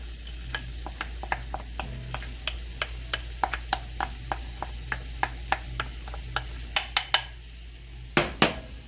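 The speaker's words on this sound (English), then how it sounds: "go ahead and throw the onions and garlic in here first" Onions and garlic frying in a pot for shrimp étouffée, a steady sizzle under regular scraping strokes of a spoon, ending in a few louder knocks against the pot.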